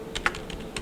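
Brief, light clicks of a computer keyboard being typed on at close range, a few quick separate keystrokes over faint room hiss.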